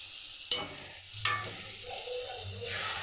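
A spoon scrapes and stirs masala into onion and tomato fried with salt in a pan, two sharp clanks over a low, steady sizzle that swells toward the end.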